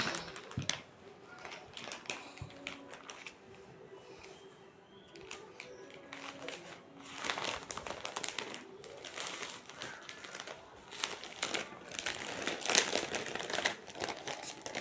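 A plastic packet crinkling and rustling while an online order is packed, in irregular close bursts that grow busier and louder toward the end, with faint background sounds.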